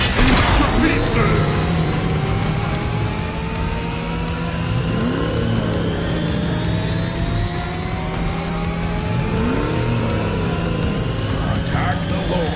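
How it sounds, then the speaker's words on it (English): A revving car engine from Johnson in the mobile game Mobile Legends, a loud, sustained roar with rising pitch sweeps under game voice lines and effects. "Hold tight! I'm stepping on the gas!"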